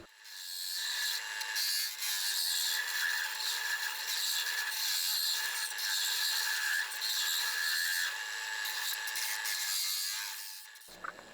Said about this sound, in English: you can really start leaning into the cutter and taking off huge shavings